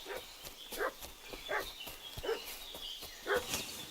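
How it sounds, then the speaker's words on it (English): A dog barks repeatedly in the video game Kingdom Come: Deliverance II, giving about five fairly distant, evenly spaced barks over steady ambient game noise. "What's that dog making such a fuss about?"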